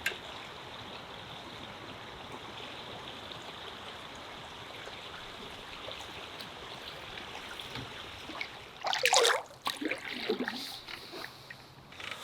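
Steady broadband rush of a small backcountry waterfall close by, continuous throughout, with a brief louder splash or knock near the end.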